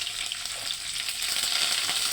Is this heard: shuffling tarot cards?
no